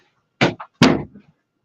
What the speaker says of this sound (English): gonna go close the door so you're not hearing my washing machine.